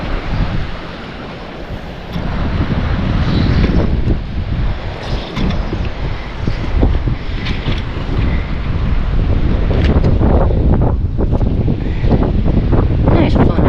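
Strong wind blows steadily across an open beach on Cayo Costa, roaring into the microphone for the whole stretch, with gusty buffeting and a broad rushing hiss that swells louder in the second half.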